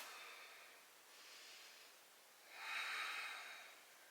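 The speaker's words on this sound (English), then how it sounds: "Engaging your Ujjayi breath." Slow Ujjayi breathing during a yoga wheel pose: soft, hissing breaths through a constricted throat, one gentle and a louder, fuller one following, quiet and close with no talking.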